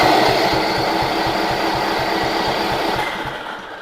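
Electric starter cranking a DR Power push mower engine that fails to catch, a loud fast rhythmic chugging for about three seconds that then winds down and fades.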